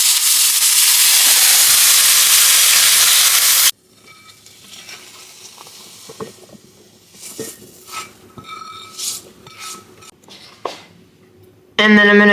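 Beef sizzling and frying in a hot pan: a loud, steady hiss that cuts to quieter clinks and scrapes of stirring, then the sizzle comes back at full strength.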